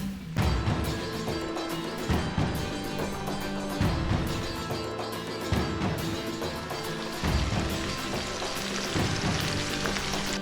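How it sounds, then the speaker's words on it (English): Shredded cabbage sizzles loudly in a frying pan of butter and bacon grease, a dense steady crackle broken by rhythmic stirring scrapes and clatters. "we fry up our cabbage in our butter and bacon grease"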